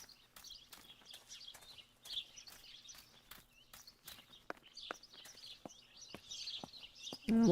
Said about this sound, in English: I hear lots of birds over here.